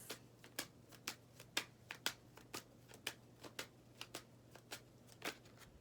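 A tarot deck is shuffled and cards are drawn in a quiet room, making a series of crisp, evenly spaced riffling snaps and slaps, close and distinct, with no talking.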